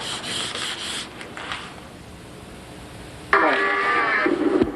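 Sanding on a model airplane part sounds like steady scratchy rubbing, quiet at first, then a louder, harsher burst of sanding near the end, close to the microphone, with no talk.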